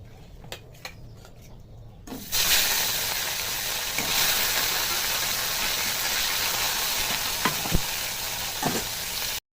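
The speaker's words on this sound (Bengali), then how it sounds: "বাকি মাছগুলো এইভাবে ভেজে নেব।" The remaining pieces of katla fish frying in hot oil in a kadai, quiet clinks at first, then a sudden loud, continuous sizzle with occasional spatters and pops, heard close with nobody talking.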